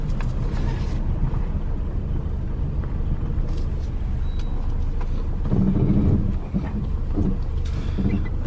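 A 1968 BMW 1602, just revived after more than ten years off the road, drives with a steady low engine drone and road rumble, the revs swelling briefly midway, heard from inside the car.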